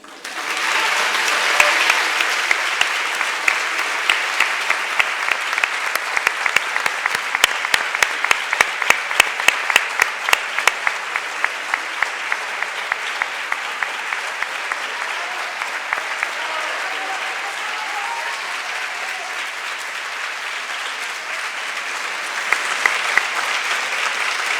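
Long, sustained audience applause at a lecture hall event, loud and dense with sharp rhythmic clapping peaking partway through before settling into steady even clapping.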